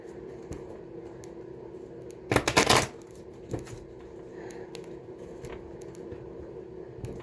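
A tarot deck is shuffled once in a short, crisp riffle of papery flutter lasting about half a second, close and fairly loud, followed by a few faint card taps against a quiet room background.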